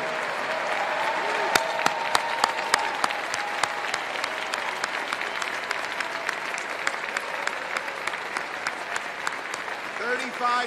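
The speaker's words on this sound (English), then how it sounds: "We want to applaud you" A large conference audience at AIPAC applauds students, steady dense clapping from a big crowd filling the hall with scattered louder claps, continuing throughout.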